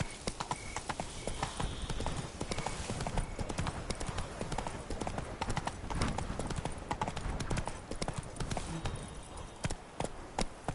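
The horse Roach gallops in The Witcher 3, rapid rhythmic hoofbeats pounding close and loud throughout, with a faint breathy edge and no clear speech.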